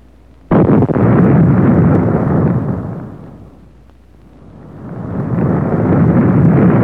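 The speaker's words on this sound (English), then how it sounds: "M28A2 high-energy anti-tank round into the fuel tank and passenger compartment of an armored personnel carrier" An M28A2 high-energy anti-tank round strikes the fuel tank and passenger compartment of an armored personnel carrier, producing a sudden loud blast that gives way to a sustained roaring rush, dips, then swells again.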